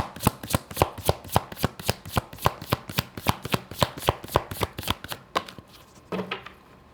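Cards being shuffled and drawn during a tarot-style reading: a fast, steady run of crisp riffling snaps, close and loud, which slows and ends with a few softer handling sounds.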